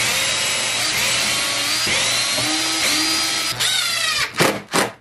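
A power drill drives wood screws into a speaker cabinet, whining steadily in short runs that rise in pitch, ending with a few loud bursts of higher revving, close up and without talk.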